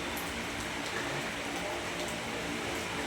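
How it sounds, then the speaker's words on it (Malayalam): Heavy rain falling in a continuous broadband hiss, steady and fairly loud, with no voices. "എന്തൊരു മഴയാണ്, വൃത്തിയിട്ട മഴയായിപ്പോയല്ലോ."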